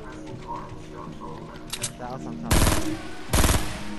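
Two loud, close bursts of automatic gunfire ring out in Fortnite, each lasting about half a second, following game sounds and a player's speech.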